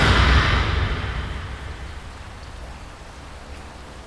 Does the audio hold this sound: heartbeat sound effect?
no